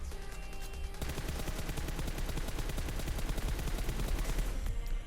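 Rapid automatic gunfire in the mobile shooter PUBG Mobile, a sustained burst of close, dense shots lasting several seconds after a brief quieter lead-in, with no talking.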